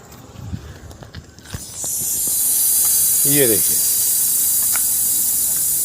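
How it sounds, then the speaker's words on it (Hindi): A Russell's viper about 3.5 to 4 feet long hisses inside a flood control office, a loud, steady, close breathy hiss lasting several seconds, with someone speaking briefly over it and scattered shuffling sounds before. "आप इस सांप की फुफकार सुन सकते हैं।"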